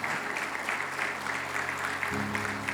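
A church congregation applauds, steady rhythmic clapping from many hands that is moderately loud, with a low sustained instrumental tone underneath.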